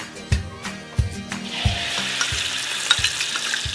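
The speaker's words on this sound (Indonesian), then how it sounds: "Tumis semua bumbu halus." Ground spice paste sizzling as it is sautéed in a pan for Gulai Taboh fish curry, with several sharp scraping stirs over a steady hiss, close and moderately loud.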